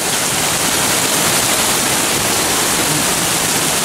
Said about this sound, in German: Jetzt kommt der Regen quasi senkrecht nach unten